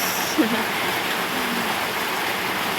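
Steady rain falls over farm fields in the countryside, a continuous broadband hiss with no clear drops standing out, heard alone at a moderate level.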